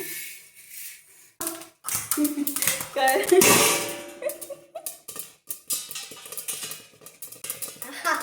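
Sorghum grains pop and crackle in a pan at home, with sharp irregular snaps and clinks of a utensil against the pan, a burst of louder crackling in the middle and quieter pops before and after.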